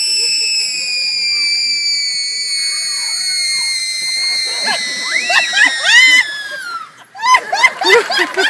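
Audience at a Renaissance fair Robin Hood performance gives a long, sustained scream, then breaks into scattered laughter and chattering shouts, loud and close.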